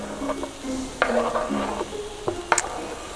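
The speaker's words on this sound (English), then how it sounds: "I'm gonna go ahead and add those to the onions to saute as well" Green and red bell pepper strips sautéing with onions in a pan, a soft steady sizzle with occasional stirring scrapes and light clicks of a utensil, close and fairly quiet, no voices.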